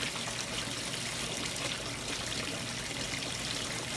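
Water bubbles and trickles through a homemade Pepsi bottle fluid bed sluice, a constant close gurgling flow with no one speaking.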